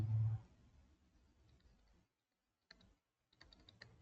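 Someone types a note on a computer keyboard with quick bursts of soft clicking keystrokes. Two short pauses break the typing, which stays close and faint with no voices.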